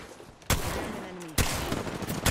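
Gunfire in the Apex Legends battle royale shooter, with two sharp loud bursts that open into sustained sizzling noise, close and dense, with no talk over it.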